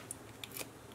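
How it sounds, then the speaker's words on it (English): A few quick, light snips of scissors trimming the edge of a craft piece, close and isolated in a quiet room. "And I am going to just cut off a little bit off the edge here."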